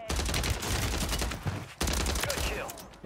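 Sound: gunfire in Warzone 3 video game

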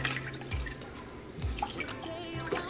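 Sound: chicken broth poured into crock pot

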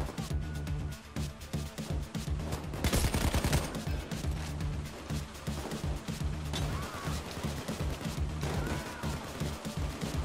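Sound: gunfire from a video game

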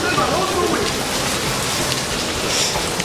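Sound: rain falling outdoors in Nogales

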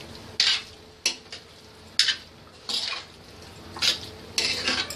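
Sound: stirring chopped coriander into cooked Punjabi chole

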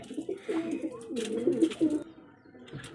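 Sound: pigeons cooing in their coop

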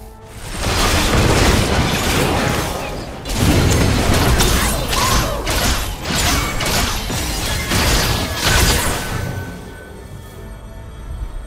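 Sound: turret being destroyed in Wild Rift video game

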